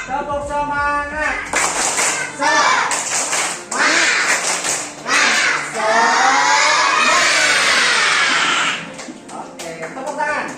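Standing schoolchildren in an Indonesian classroom chant and clap in rhythm during a 'tepuk semangat' icebreaker led by a teacher, with loud bursts of voices and claps in repeated phrases.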